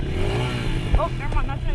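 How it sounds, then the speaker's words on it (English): A motorcycle engine idles and shifts into gear on a mountain single-track trail, a steady close rumble with a brief clunk and a slight rise in engine note, and a voice talking over it. "I'm putting this thing in first gear."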